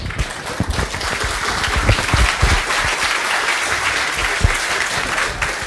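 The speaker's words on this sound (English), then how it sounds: "Yes, a big applause for him because he has done a lot of kilometers to come here." Audience applause for a speaker at the FOSDEM 2014 open-source conference, a sustained dense wash of many hands clapping in a hall, steady and fairly loud with no voices over it.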